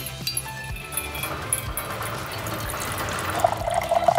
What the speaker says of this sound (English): So I'm just gonna dispense this water right now.